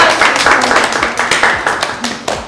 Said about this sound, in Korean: 여기 러머 씨한테 박수 한번 부탁드립니다